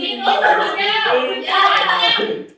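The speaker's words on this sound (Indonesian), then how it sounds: "Kita kasih tepuk tangan dulu buat kelompok kita." Children in a classroom clap for their student group, a steady burst of close, fairly loud hand claps lasting a couple of seconds, with a brief pause and a second swell before it fades.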